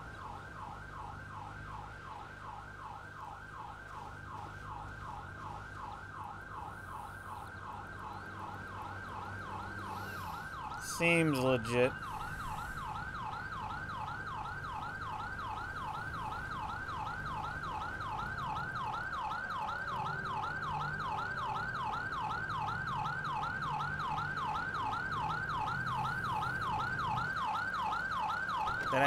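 Wailing ambulance siren in the GTA V LSPDFR video game, a continuous cycling electronic wail running the full length, with a short spoken remark and a brief rumble midway.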